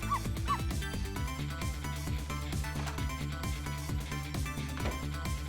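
A small Pomeranian-like dog yips and barks repeatedly in quick bursts in Ghost Trick, over a busy layered background of game music and effects.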